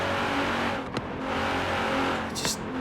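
Nissan GT-R Premium Edition in Forza Horizon 3, a 2017 car rated at 565 horsepower, with a steady, moderately loud engine drone at speed and a couple of brief sharp bursts over it.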